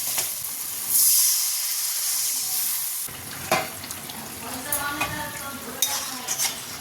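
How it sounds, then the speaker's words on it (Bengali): Pabda fish curry gravy boiling in a pan, starting with a loud steamy hiss that drops away into softer bubbling, popping and occasional stirring clatter, heard close with no voices. "এই দেখো ঝোলটা ফুটে গেছে খুব ভালো করে"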